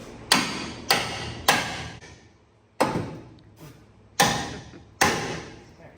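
Hammer striking metal on a square-body truck while lowering it, six loud, sharp ringing blows in an irregular rhythm, each with a short metallic decay, close by with no talk.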